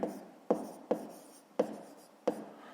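A pen or pencil writes numbers by hand on paper during a fifth-grade math exercise. Five short, close scratchy strokes come at irregular intervals, each starting with a sharp tap and fading quickly.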